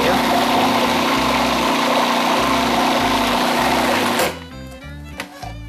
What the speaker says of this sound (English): Blend for another second or two.